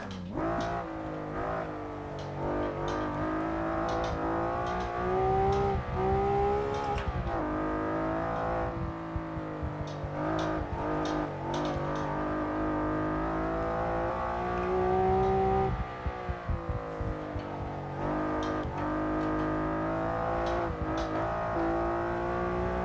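A Honda NSX engine in a racing simulator revs and climbs through the gears, a loud sustained tone rising and falling with shifts, heard alone throughout.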